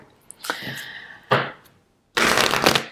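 Tarot cards being shuffled up close: a couple of short riffling bursts separated by brief pauses, then a longer, louder riffle, with no talking.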